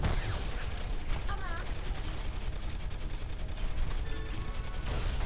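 D.Va's mech in Heroes of the Storm fires a continuous rapid stream of gunfire, a dense rattling barrage with game effects and chirps layered on top, while an excited voice talks over it.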